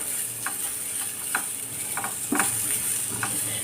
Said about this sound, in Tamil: இதை நல்லா ஒன்றா வதக்கிட வேண்டியதுதான்